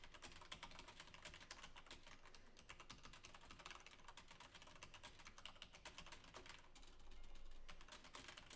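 Rapid, continuous clatter of keys on a computer keyboard, quiet and close, with a brief heavier burst near the end and no voices.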